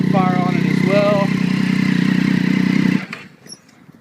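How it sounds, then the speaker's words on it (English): Triumph Daytona 675R sport motorcycle fitted with a Dan Moto aftermarket exhaust, a loud steady engine drone close by that cuts off abruptly near the end, with a brief pop after. A voice speaks over the engine. "Some nice back pressure and backfiring when you're downshifting or let off the gas"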